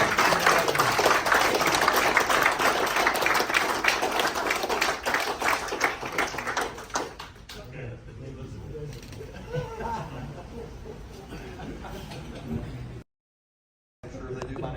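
Audience applause fills a veterans dinner hall, loud dense clapping for about seven seconds, then fading into scattered claps and murmuring chatter before a brief cut of silence.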